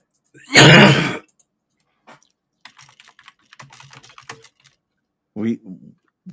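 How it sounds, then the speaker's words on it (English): A man gives a loud, harsh cough and clears his throat up close, then quieter scattered keyboard clicks follow, and a second short rasping throat sound comes near the end. "That's why he's coughing."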